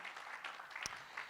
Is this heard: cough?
no